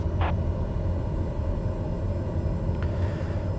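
Airliner engines roar steadily during takeoff in Microsoft Flight Simulator 2020, a loud constant low rumble with a couple of faint higher clicks over it.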